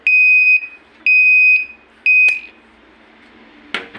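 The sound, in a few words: overload alarm on an electric grass cutter's control box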